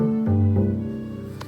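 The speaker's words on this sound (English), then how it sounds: "The next choice is a cello. It's a little bit lower than a viola and a violin" A cello, lower-pitched than a viola or violin, plays a few bowed notes that shift in pitch, warm and sustained, heard up close with no voices.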